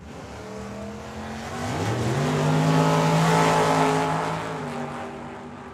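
Drag racing cars launch and scream down the Tucson Dragway, engines rising through sharp gear shifts and swelling louder before tailing off into the distance.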